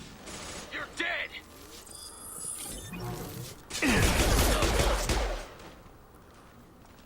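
Gunfire in the video game Mass Effect 2, with scattered shots and mechanical clanks early on, then a heavy, loud burst of firing and impacts in the middle, with someone talking over parts of the action.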